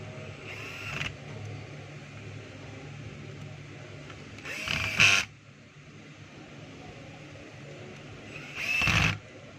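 A Stanley 18V cordless drill drives screws in three short whirring bursts separated by several seconds of quiet workshop background.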